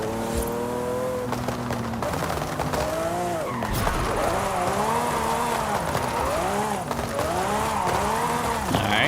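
A Lamborghini drifts in the racing game Forza Horizon 5, its engine revving up and down in wavering pitch while the tires squeal in long sweeping runs, close and loud, with a player speaking at times.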